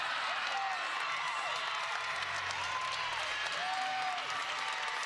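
A college volleyball crowd at the 2024 Missouri Valley Championship final between UIC and UNI roars and applauds in a large arena, a continuous wash of cheering with whistles and a commentator talking over it.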